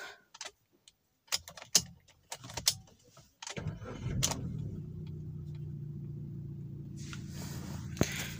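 A Maruti Swift Dzire petrol car starts up for a trial drive after a full service, with a few clicks and key jangles before the engine catches and settles into a steady close idle.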